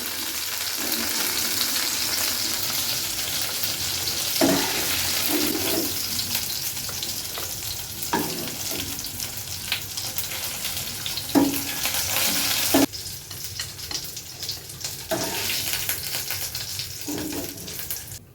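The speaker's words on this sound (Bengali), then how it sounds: "ছোটো ছোটো চিকেন করলে সুবিধা আছে তাড়াতাড়ি ভাজা হয়ে যায় চিকেন" Small chicken pieces for chicken popcorn fry in hot oil with a constant close hiss and sizzle, punctuated every few seconds by soft stirring knocks; the level shifts abruptly partway through.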